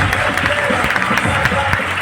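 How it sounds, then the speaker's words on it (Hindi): Loud, dense audience applause for the police at a public talk, a close, continuous wash of many hands clapping that fills the whole stretch without pause. "एक बार तालियां मारिए पुलिस वालों के लिए।"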